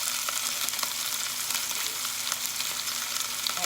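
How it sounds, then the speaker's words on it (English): Breakfast sausage sizzling in a pan over medium-high heat for sausage gravy, a steady close crackle and hiss with small popping spatters throughout and no talk. "this is gonna sizzle"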